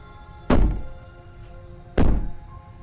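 Two heavy, booming knocks on a door from the video game Slay the Princess, the princess pounding from the other side, spaced well apart, each a loud close thud with a short ringing decay over a low ambient hum.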